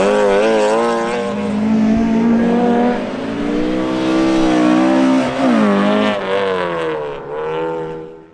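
A Mazda MX5 race car at Shackleton circuit runs hard through the gears, its engine note climbing and dropping in loud, rasping sweeps as it races past with no talk over it.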